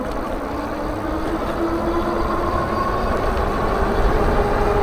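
Electric fat tire e-bike with a 26x4 frame and 1000-watt motor riding on throttle only, giving a steady whirring drone mixed with tire and road rumble, constant and close with no talk.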